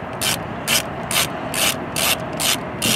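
A ratchet clicks in quick repeated bursts, about seven pulls in three seconds, backing out Torx 15 factory screws on a 2024 Chevrolet Suburban; close and crisp, with no talking.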